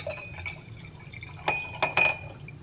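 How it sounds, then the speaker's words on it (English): Sparkling water is poured into a mocktail glass, filling it halfway. A soft liquid trickle with fizzy crackle runs under a few bright clinks and splashes of glass, close and fairly quiet, with no voices. "I'm gonna take my little mocktail thing, fill it up halfway with sparkling water."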